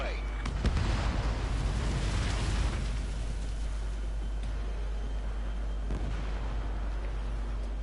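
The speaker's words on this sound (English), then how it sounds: "Missile away." A missile launch in a PlayStation 4 video game, heard as a loud rumbling roar and blast that swells early and then holds as a dense steady rumble throughout, with game radio voices underneath.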